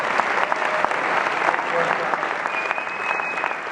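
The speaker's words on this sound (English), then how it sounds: "round of applause" A room full of people applauding steadily at a game audio awards ceremony, dense clapping that holds at an even level throughout with a faint murmur of voices beneath.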